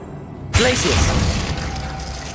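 In Hogwarts Legacy, the Glacius freezing spell goes off with a sudden sharp crack, then a bright crystalline, shattering burst that slowly fades, with a voice heard around it.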